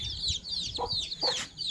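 Chicks and a hen in a farmyard at morning feeding, high thin peeping from the chicks repeating rapidly over a couple of low clucks, close and fairly quiet.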